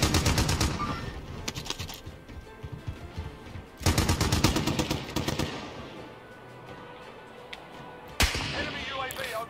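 Gunfire in a shooter video game using the Aug and FFAR, rapid automatic bursts in loud clusters separated by short pauses, then a final sharp burst.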